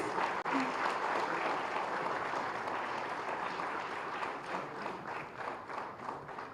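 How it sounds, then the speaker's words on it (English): Sustained audience applause at a conference valedictory session in Hyderabad, a dense, steady wash of many hands clapping throughout, loud and continuous with a slight swell and fade near the end. "Can we have a big round of applause, please?"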